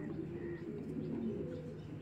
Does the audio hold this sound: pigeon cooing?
yes